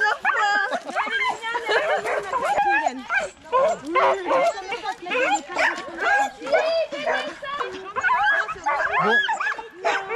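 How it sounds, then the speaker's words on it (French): A pack of overexcited sled or running dogs barks, yips and whimpers close by in a constant, overlapping chorus. A voice talks over the din. "comme vous voyez derrière, les chiens sont surexcités. Ils n'ont qu'une envie, c'est partir là."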